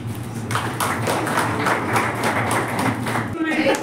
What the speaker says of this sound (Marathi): आपण चंदू भैयांचं टाळ्या वाजवून स्वागत करू.